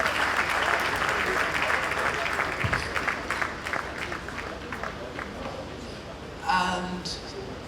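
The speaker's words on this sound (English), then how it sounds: "A round of applause, ladies and gentlemen." Audience applause breaks out at an Independence Day award ceremony, a dense steady patter of many hands that gradually thins, with a voice briefly rising over it near the end.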